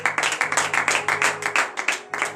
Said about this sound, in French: Donnez de vive acclamation à l'Éternel